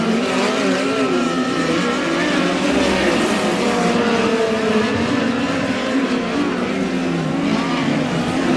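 POWRi West midget race cars scream around Humboldt Speedway in a heat race, a dense, loud, continuous engine howl with shifting pitches as the cars circle the track.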